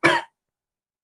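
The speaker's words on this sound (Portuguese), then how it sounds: "Uma tosse aqui." A single short, dry cough from a man in a quiet room, close to the microphone, followed by silence.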